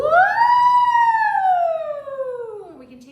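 A singer's voice imitates a siren in a vocal warm-up, a single sustained woo that swoops up then glides slowly down in pitch over about three seconds, close and clear with no other sound.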